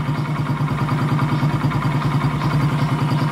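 An engine idling steadily while its carburetor is tuned and the idle RPM set, a loud, even, close-up drone with a fast regular pulsing throb and no change in pitch.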